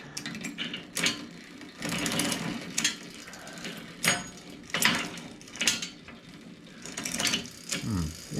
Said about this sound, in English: I'll run it through the gears